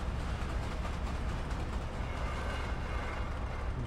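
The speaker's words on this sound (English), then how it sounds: "So it's another freight train." A freight train passes in Train Simulator Classic as a continuous low rumble with steady rolling noise, loud and close, with no voices.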